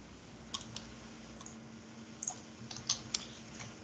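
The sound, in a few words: typing on a computer keyboard, pressing enter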